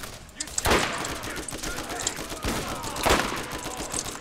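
Gunfire from the shooter video game Borderlands pops in a few sharp bursts under players chatting and reacting.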